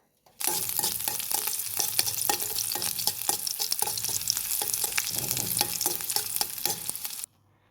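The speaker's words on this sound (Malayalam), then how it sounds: "ഇനി നമുക്ക് ചൂടായ ചീനച്ചട്ടിയിൽ എണ്ണ ഒഴിച്ച് താളിക്കാൻ ആവശ്യമായ ഉള്ളിയും ഉണക്കമുളകും ഇടാം." Onions and dried chillies fry in hot oil in a pan for a Kerala-style tempering, a steady crackling sizzle with repeated stirring clinks, close and continuous until it stops abruptly.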